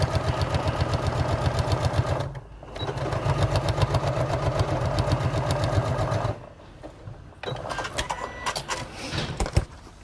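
Sewing machine running in steady rapid stitching bursts along a tote bag seam, loud and close, with two short pauses between runs and no talking.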